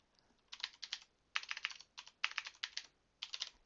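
Bursts of keystrokes on a computer keyboard while entering an SQL select command, several quick clusters of clicking separated by short pauses, close and clear in a quiet room.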